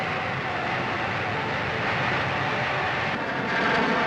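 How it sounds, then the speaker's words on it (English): Jet exhaust from a Regulus guided missile on the deck of the cruiser Helena, a dense, continuous roar that holds steady and swells slightly near the end, with no voices. "the missile's powerful jet exhaust churns up the water at the ship's side"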